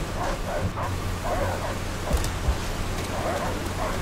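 A dog barking in the video game Call of Duty: World at War, a few repeated barks and yips set under a steady rain-like wash of game ambience, moderately loud and continuous.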